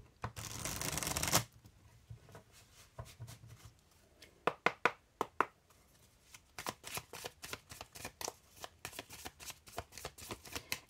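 Tarot cards being shuffled by hand, first a brief riffle burst and then a quick series of soft, rhythmic card slaps and flicks, close and quiet with no talking.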